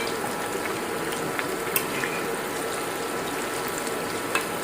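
Chicken pieces for a homemade KFC-style fry crackling in hot oil, a steady close sizzle with occasional sharper pops throughout.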